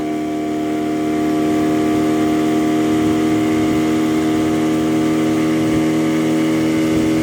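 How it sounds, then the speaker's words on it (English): A small outboard boat motor runs at full throttle, a loud, steady, close drone that holds constant throughout. "That little motor runs really good."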